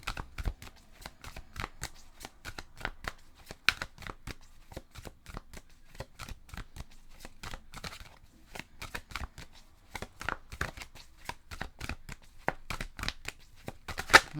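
Oracle cards shuffled by hand give a steady, quiet run of rapid papery riffles and flicks, close up and continuous, with no voices.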